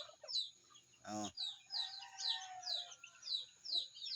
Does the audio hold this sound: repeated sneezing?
no